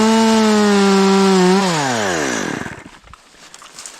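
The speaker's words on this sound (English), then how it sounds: "So I'll make my second cut." A chainsaw makes the second felling cut into a standing tree, its high engine whine holding steady, then dropping sharply in pitch as the chain bogs into the wood, fading to rough sputtering idle; loud and close, no talking.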